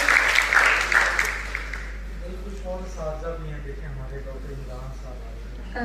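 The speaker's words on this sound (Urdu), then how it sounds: "آپ سب کی بھرپور تالیاں معزز اساتذہ کرام کے" Applause from an audience honouring teachers at an inter-university competition ceremony bursts loudly for about two seconds, then fades as a voice begins speaking over the hall's quiet background.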